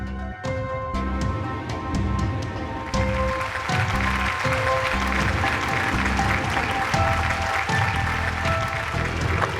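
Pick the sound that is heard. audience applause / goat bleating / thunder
audience applause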